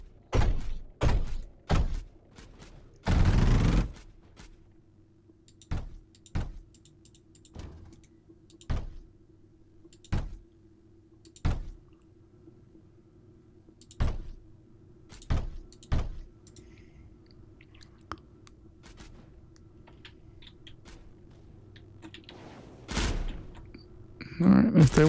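Turret fire in the sci-fi strategy game Mindustry, Erekir campaign: sharp, separate shots and thuds spaced a second or two apart over a low steady hum, with one longer burst near the start.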